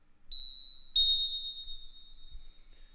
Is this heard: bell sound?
yes